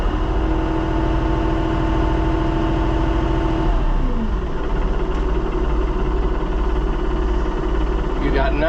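A Minneapolis Moline Jetstar 3 tractor engine idles loudly and close up with a steady low drone and a shift in tone partway through, while someone talks over it.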